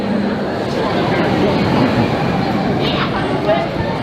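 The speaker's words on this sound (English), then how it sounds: "This is people waiting for the subway." A crowded subway station where people wait as a train rumbles and rattles through, a dense continuous roar with faint squeals and a babble of voices underneath.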